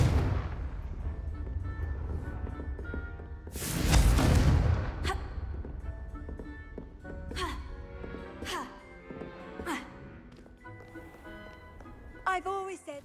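A single loud burst from the Confringo blasting spell in the Hogwarts Legacy video game erupts about a third of the way in, followed by fainter magical chimes and effects while a voice speaks.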